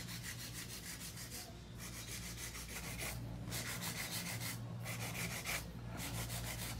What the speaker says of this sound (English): Just a quick run through with the file, 100 grit.